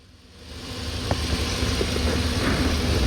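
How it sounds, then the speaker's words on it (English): A 2008 Buick LaCrosse V8, just fitted with a new starter, comes to life and settles into a steady running idle, the engine sound swelling over the first half second and then holding at a close, even level. "at that point, the vehicle should start"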